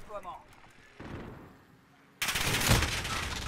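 Gunfire in Call of Duty, quiet at first, then a louder burst of rattling shots that swells into a heavy sustained barrage in the last second.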